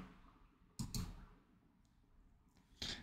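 A computer mouse clicks on a laptop during a software reinstall: two sharp clicks close together, then a third after a pause, near and crisp against a quiet room.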